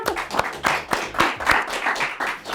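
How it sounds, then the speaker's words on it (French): A small game-show audience claps for a contestant, a short ragged burst of separate, fairly close hand claps at an uneven pace, without speech over it. "bravo, on peut applaudir Laurine."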